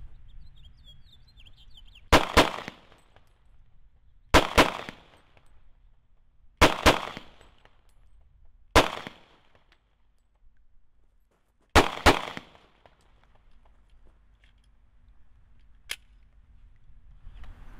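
A pistol fitted with XS 24/7 Big Dot sights fired downrange through a whole magazine: six sharp, loud shots spaced about two seconds apart, with quiet gaps between them and no talking.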